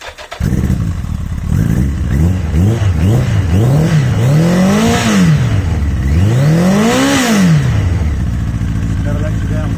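A Yamaha Fazer motorcycle with a tinkered exhaust fires up and is revved hard several times, each throttle blip rising and falling loudly up close, with a long sweeping rev near the end.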